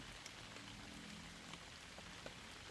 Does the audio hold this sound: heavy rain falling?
yes